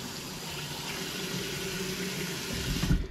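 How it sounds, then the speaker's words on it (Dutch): Cold water pours steadily into a tub set up for a cold-shower challenge, making a continuous close rushing fill that swells slightly near the end. "Eerst gaan we vullen met koud water."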